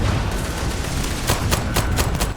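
Gunshots in the game Starfield: five sharp cracks spaced a fraction of a second apart ring out in the second half over a steady low ambient hum, with no talking.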